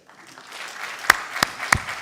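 A handful of sharp, isolated hand claps from the audience at a 2022 international conference in Cape Verde, spaced irregularly over a faint room murmur.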